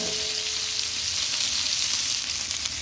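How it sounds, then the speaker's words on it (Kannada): Chopped onions fry in hot oil in a pan alongside chana dal and cumin for chitranna, a yellow lemon-style rice breakfast. A steady, dense, close sizzle runs unbroken throughout with no talking. "ಈರುಳ್ಳಿಗೆ ರುಚಿ ತಕ್ಕಷ್ಟು ಉಪ್ಪು ಹಾಕ್ಕೊಳ್ಳಿ, ಬೇಗ ಫ್ರೈ ಆಗುತ್ತೆ"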